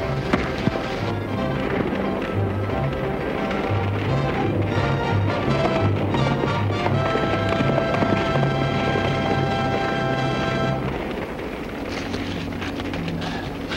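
Horse hooves gallop in a fast, continuous clip-clop in a 1939 western serial, loud and driving over a bed of dramatic orchestral music.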